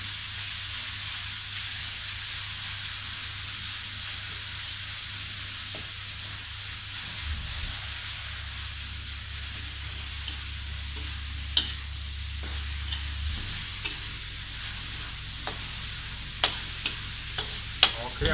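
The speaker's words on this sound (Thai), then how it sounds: "เกี่ยวเครื่องให้สุก" Thai curry paste stir-fried in a pan until cooked for a jungle-style curry, a steady hiss of frying with a low hum and occasional sharp scrapes and clinks of a utensil toward the end.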